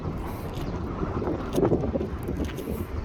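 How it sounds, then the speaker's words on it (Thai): Strong gusts buffet the microphone outdoors at a wide, open market grounds in Saraburi, a steady loud roaring rumble that swells briefly near the middle, with no speech. "ลมแรงมาก"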